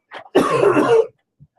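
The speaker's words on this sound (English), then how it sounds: "He stays coughing." A single person gives one harsh, throaty cough lasting under a second, close and fairly loud, with a faint breath before it and quiet afterward.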